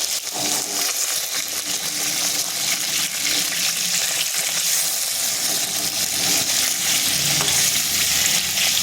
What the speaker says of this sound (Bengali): এখন উল্টো পাশটা হালকা করে ভেজে নিচ্ছি।